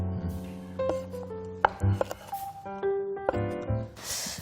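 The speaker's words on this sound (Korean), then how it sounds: "조금 굵직굵직하게 썰어주셔야지 돼요" A knife chops Korean sundae blood sausage into thick chunks on a board, giving a string of irregular, close, fairly loud knocks with short pauses between cuts.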